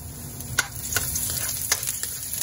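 Ginger sizzles in a hot cooking pan as it is stirred, with a soft steady frying hiss and a few sharp scrapes of the utensil against the pan.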